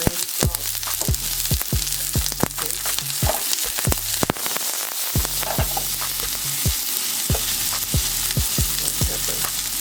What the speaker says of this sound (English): I'm going to put some onions and garlic.